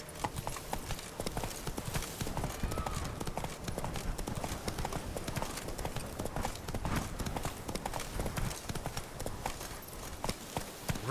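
Hooves of Roach, the horse in The Witcher 3 video game, pounding in a fast, steady galloping rhythm throughout, moderately loud, with occasional speech over it.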